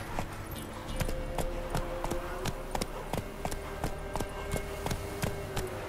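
A horse gallops in the video game The Witcher 3: Wild Hunt. Rhythmic, rapid hoofbeats clop steadily and fairly close, with faint background game sound.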